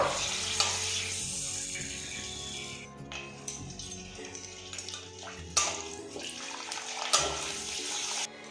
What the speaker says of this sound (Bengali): এইভাবে পাঁপড়গুলো আমি ফ্রাই করে নেব